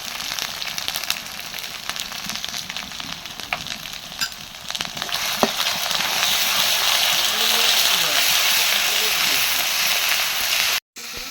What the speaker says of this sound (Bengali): মশলাটা কষান করে নাও